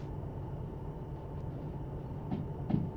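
Steady low rumble of a locomotive pulling carriages in the Derail Valley train game, with a constant mechanical drone and a couple of faint clanks of couplings near the end.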